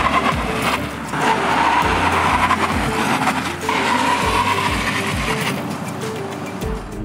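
A Volkswagen Caddy (2021) diesel van brakes hard during an instrumental test, its tires skidding and squealing loudly and continuously, with heavy road and engine noise throughout.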